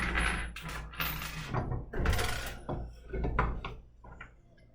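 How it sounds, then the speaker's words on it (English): A carriage bolt pushed into a hole in a wooden loom frame, giving a few close, knocking and rattling clicks of metal against wood in separate bursts, with quieter gaps between. "now I'm putting the carriage bolt in this topmost hole"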